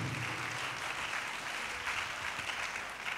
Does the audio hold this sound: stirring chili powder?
no